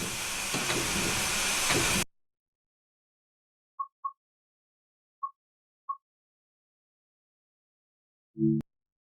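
In the video game Train Sim World 4, a loud steam train hiss runs for two seconds and cuts off, followed by silence, four short electronic beeps, and a brief low thump.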